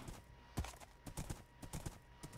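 Horse hooves clip-clopping in Minecraft: a string of light, uneven hoof steps at a quiet level, heard alone without speech.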